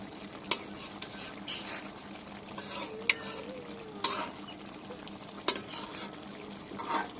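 Pangas fish curry with potatoes being stirred in a pan, a soft continuous sizzle under sharp spoon scrapes and clinks against the metal at irregular intervals, close and moderately quiet.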